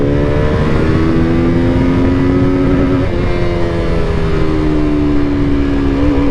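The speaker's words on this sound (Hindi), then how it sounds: "अभी मेरी गाड़ी थर्ड गियर पे है," A motorbike revs hard in third gear, its steady engine note climbing and then dipping briefly before rising again. The sound stays close and loud throughout, with no talking.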